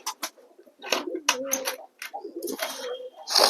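Pigeons cooing inside a loft, soft repeated throaty coos and short bursts of wing and beak sounds in uneven clusters, close and fairly quiet.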